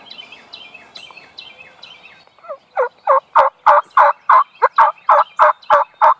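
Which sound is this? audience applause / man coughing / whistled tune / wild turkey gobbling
wild turkey gobbling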